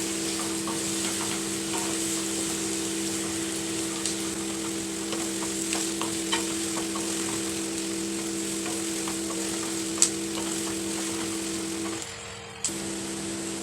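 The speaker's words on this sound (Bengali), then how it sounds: "পেঁয়াজটা না একটু গোল্ডেন ব্রাউন করবো।" Onions frying in a pan until golden brown, a steady close sizzle with light crackles and occasional stirring, continuous for most of the stretch before a brief dip near the end.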